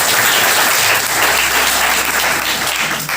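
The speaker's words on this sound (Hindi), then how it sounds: "वेरी गुड, तालियां बजाओ।" Children in a small school classroom clap together in a dense, steady burst of applause that fills the whole moment, close and loud, with no talking over it.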